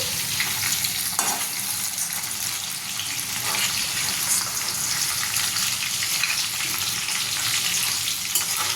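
Lote fish curry is stirred gently in a frying pan, with a continuous bright sizzle and soft scraping of the spoon filling the whole stretch at close, fairly loud level.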